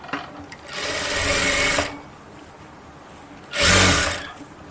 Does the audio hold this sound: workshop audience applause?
no